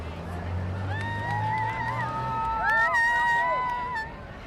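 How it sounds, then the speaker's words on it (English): Crowd cheering and shouting along the street at a university homecoming parade in 2023, a loud continuous roar with whistles and high cries rising over the din. "As we hear all that cheering"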